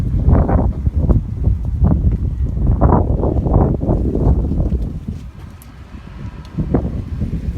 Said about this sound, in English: Got windy out here.